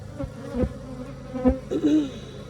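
Honeybees buzz at an open hive while a keeper works the frames, a steady close insect drone with a few louder bursts as bees pass near.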